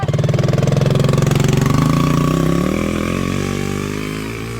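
Quad bike fitted with a Predator 212cc engine running near, a steady rough putter that wavers in pitch and slowly fades as the bike moves off.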